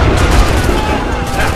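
Loud, dense burst of gunfire in Assassin's Creed 3, a rapid crackling volley with booming low end, filling the whole moment without a pause.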